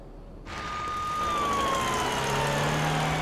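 An ambulance siren starts abruptly and grows steadily louder, holding a sustained wailing tone that slowly falls in pitch as the vehicle draws near in a dramatic scene.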